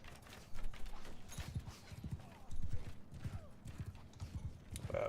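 Horses' hooves pound in a video game battle, a steady rolling clip-clop of many mounts at close range that swells and eases in bursts across the whole stretch.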